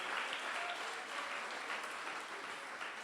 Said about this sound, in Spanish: Usted mientras aplauda, alabe a Dios.